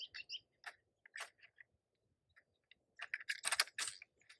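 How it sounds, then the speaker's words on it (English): A leveling head drops into the bowl of an Athlon Midas CF32 carbon-fiber tripod with a quick series of crisp, close plastic-and-metal clicks, scattered and then a denser burst near the end. "We can now simply drop our leveling head in."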